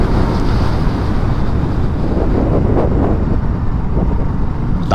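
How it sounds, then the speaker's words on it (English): Strong gale-force wind buffets the microphone beside a BSA Goldstar motorcycle, a loud, continuous roaring rumble with gusty surges throughout and no voices. "it is blowing a gale, so what you're going to hear when I get off the bike, I do not know"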